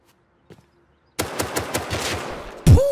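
A rapid burst of automatic gunfire from an AK in the video game Rust, a fast close rattle of shots followed by a louder blast at the end, with no talking.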